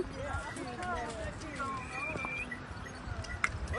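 Horse hooves clip-clop at Ratti Gali Lake in Kashmir, a scattered run of moderate thuds under steady talk and some whistle-like calls.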